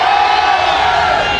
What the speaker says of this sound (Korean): 그 함성소리가 좀 작아